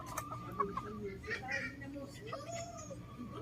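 A roughly four-month-old cockerel, a Golden Boy over Boston cross, clucks in short, close bursts among other fowl, with a rising call near the end and people talking over it.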